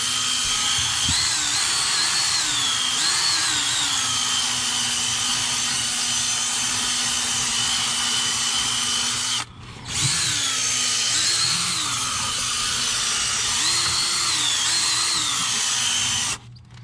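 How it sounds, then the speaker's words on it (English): A power drill spins a soft bristle brush scrubbing dirt off a car's interior, a steady continuous whir with a warbling pitch that runs without a break, stops briefly near ten seconds, then resumes close and loud. "I have my soft bristle brush on my drill, and just look at the dirt just coming right off of there"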